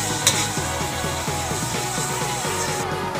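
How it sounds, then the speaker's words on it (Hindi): Potatoes and eggs frying in a pan, a steady close sizzle under a regular scraping rhythm of stirring that repeats about twice a second. "मैं बस अभी आलू अंडे ही बना रही हूँ फ्राई"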